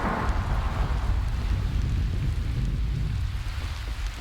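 Steady rain and rumbling thunder from a stormy scene in the video game Lucy, Get to the Tower, a dense, continuous wash of low rumble and hiss with no voices.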